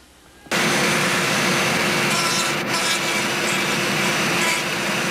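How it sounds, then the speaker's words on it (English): A Dremel rotary tool fitted with a small cone-shaped tip carves a scoop on a Spitfire 21 scale model, kicking in abruptly with a loud, continuous whirring grind that holds steady for several seconds. "these little Dremel tips that have a little cone on them"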